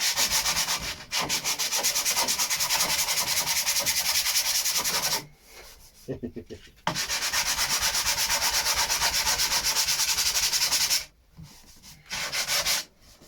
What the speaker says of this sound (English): So we've just got to sand the other side of this.